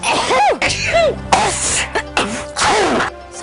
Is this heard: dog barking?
no